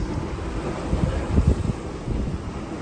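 Steady wind buffeting the microphone with low rumbling wave wash against the hull of a sailboat under way at night, a continuous moderately loud roar with a few heavier surges, no voices.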